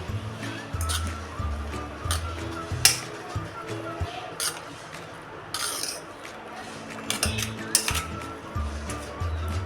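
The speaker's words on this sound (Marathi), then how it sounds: "अजिबात हात न लावता चमच्यानं असंच आपण एकसारखं कालवून घेणार आहे" A spoon clinks against a metal pot as tempering is stirred into raw mango takku, with scattered light metallic taps and scrapes under a woman's speech.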